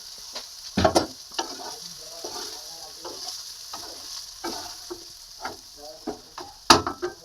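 Vegetables and rice stir-fried in a wok for a homemade fried rice made without ghee: a steady close sizzle broken by repeated spatula scrapes and clanks against the pan, with no talking.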